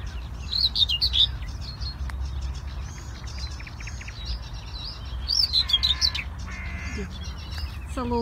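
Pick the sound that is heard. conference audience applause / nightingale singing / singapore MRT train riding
nightingale singing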